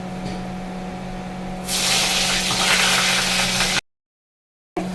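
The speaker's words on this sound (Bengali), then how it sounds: "ওদিকে কড়াই তেল গরম হয়ে গেছে, মানে দিয়ে দিচ্ছি বেগুনগুলো।" Eggplant slices hit hot oil in a wok with a sudden loud sizzle that continues as a steady, close hiss over a low hum, then cuts off abruptly before resuming briefly.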